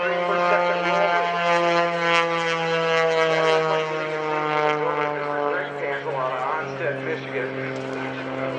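Panzl S330 aerobatic propeller plane at an Air National Guard airshow in Rhode Island, its engine droning loud and steady with shifting pitch as it maneuvers overhead, under a running commentary voice.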